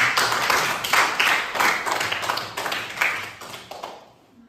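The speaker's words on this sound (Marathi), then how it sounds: "पल्लवीसाठी एकदा पुन्हा एकदा टाळ्या दे" A small group claps for a student in a classroom game, with steady overlapping hand claps for about four seconds before quickly fading to quiet.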